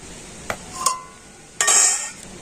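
A metal pot of boiled raw mango being lifted off a kitchen stove, with a few sharp clinks and a brief scraping clatter, close and alone.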